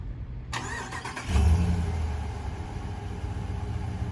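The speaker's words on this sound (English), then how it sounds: "to remote start the truck, lock it once and double click on the remote start button" A 2020 Ram 1500 BigHorn truck starts by remote: a brief cranking burst, then the engine catches with a loud rumble and settles into a steady idle, heard nearby with no talking.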